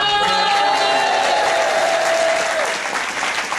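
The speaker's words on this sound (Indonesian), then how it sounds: "kasih tepuk tangan" Audience applause at a Lirboyo santri scientific debate competition, dense steady clapping filling the room with a sustained tone fading out midway.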